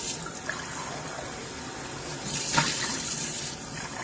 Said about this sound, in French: on va commencer par remplir un bol d'eau très froide et mettre des glaçons